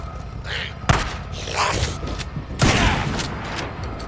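Video game gunfire in Days Gone: a few heavy shots and bursts ring out under a steady game ambience, with sharp impacts near 1 s and 2.6 s and softer reports between.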